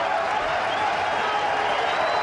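A packed stadium crowd at a 1999 Pakistan vs India Coca-Cola Cup match in Sharjah roars and applauds a six. The cheering is a dense, steady wash of noise with no break, and faint commentary may sit underneath.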